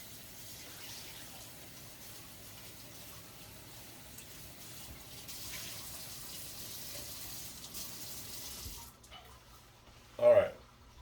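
Tap water runs steadily into a sink as smoked turkey drumsticks and necks are rinsed, a soft continuous stream that cuts off near the end, followed by one brief louder splash.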